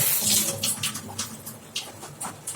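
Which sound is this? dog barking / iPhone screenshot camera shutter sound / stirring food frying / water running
water running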